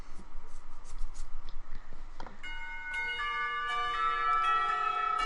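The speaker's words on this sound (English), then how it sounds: "Clock tower bells ring, signaling the end of the period." Clock tower bells ringing in a visual novel game, the school period ending: several bright, sustained bell tones begin partway in and ring on together, after a stretch of quiet scratching and scribbling.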